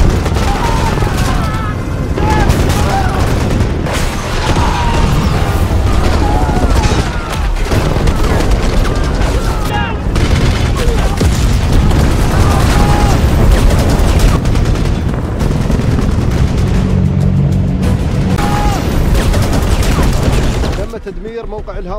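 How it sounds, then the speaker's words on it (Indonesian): Apache attack helicopter opening fire on a mortar position in a military combat scene: dense, continuous bursts of gunfire and booming impacts fill the whole stretch loudly, with voices mixed in under the barrage before it cuts off near the end. "helikopter Apache itu pun langsung melesakkan tembakan pertamanya sebagai ucapan salam perkenalan"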